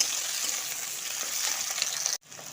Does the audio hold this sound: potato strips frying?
yes